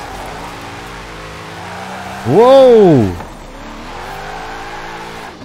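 A modified Ford Mustang in Forza Horizon 4 roars past up close, its engine note rising sharply then dropping away over about a second, with a short exclaimed voice and surrounding chatter.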